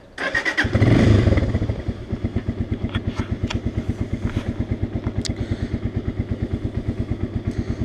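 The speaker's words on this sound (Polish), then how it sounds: "także odpalimy silnik" A Romet K 125 motorcycle kicks into life with a loud starting burst, then settles into a steady, even idle with a rapid regular thump, close by and with no one talking.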